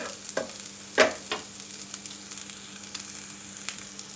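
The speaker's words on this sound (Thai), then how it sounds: "ผัดให้เข้ากันครับ" Pork stir-fried with shrimp paste, pounded chili and lemongrass in a pan, a faint sizzle under a few sharp scrapes and clinks of a utensil stirring, quiet and close with no talking.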